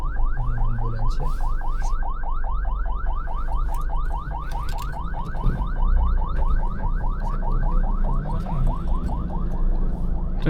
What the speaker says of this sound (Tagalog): Ang ambulansya.